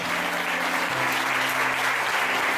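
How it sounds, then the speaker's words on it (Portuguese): A congregation applauds in church, a dense continuous roar of clapping with a low hum under it, steady and enveloping throughout. "Uma salva de palmas para Jesus"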